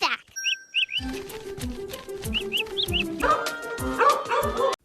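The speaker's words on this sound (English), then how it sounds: "He barks at the door when a doorbell rings on TV." A house dog barks at the door in a rapid series of short, loud, close barks, accompanied by high chirping electronic tones.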